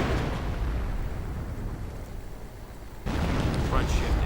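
Artillery barrage explosions in a strategy video game, a continuous rumbling roar of blasts that eases off and then swells again sharply, with a voice talking over it.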